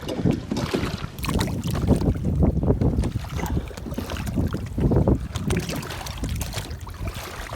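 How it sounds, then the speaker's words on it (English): Strong wind buffets the microphone on open water during kayak fishing, a steady loud rumbling roar with gusting surges and faint water sounds beneath. "It is windy."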